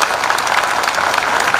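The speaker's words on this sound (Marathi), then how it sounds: "आपण सर्वांनी टाळ्या वाजवून त्यांचं स्वागत करावं" A gathering at a large devotional servants' conference in Haldgaon breaks into loud, dense applause to welcome a guest, steady clapping from many hands throughout.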